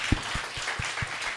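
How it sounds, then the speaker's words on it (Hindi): A congregation at a church meeting in Goa claps in praise, sounding as a few distinct, fairly loud claps spaced in a loose rhythm over a hazy crowd background. "ओके एक अच्छी ताली प्रभु के लिए।"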